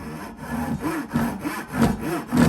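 A DeWalt single edge pull saw makes a rip cut through wood, giving rhythmic rasping strokes about twice a second, close and clear with no talking.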